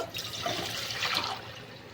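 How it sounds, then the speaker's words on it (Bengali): Water pours steadily into a bowl for boiling eggs, a continuous splashing, gurgling stream heard close for the full couple of seconds. "বাটির মধ্যে জল দিয়ে দেব"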